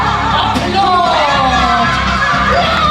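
A theme park show audience at Hollywood Studios cheers loudly, with whoops and yells blending into a sustained crowd roar and voices shouting over it.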